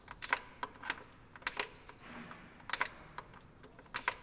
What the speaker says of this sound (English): So you can hear the click.